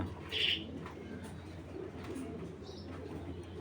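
A big male Python-breed racing pigeon, a breeder cock from 2016, gives soft, low cooing close by, faint and murmuring under a quiet background, with no speech.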